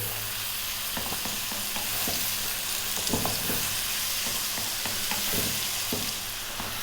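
Tomatoes cook down in a pot for cumin garlic kale, producing a steady, close sizzle under faint, scattered clicks and scrapes from stirring.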